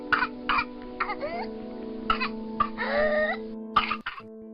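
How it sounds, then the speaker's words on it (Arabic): Repeated wheezy coughs, some harsh and some with rising whooping intakes, come in short bursts over a low steady background hum. "بيكون صوت الكحة"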